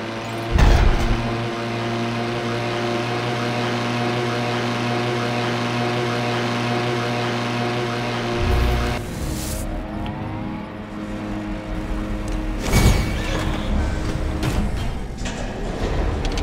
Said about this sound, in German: Mal Moped fahren hier.